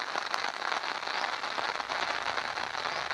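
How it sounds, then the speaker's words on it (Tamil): Heavy rain pours down steadily in Tamil Nadu, a dense, continuous hiss and patter with no pauses, alone and without speech. "மழை கொட்டி தீர்த்து வருகிறது."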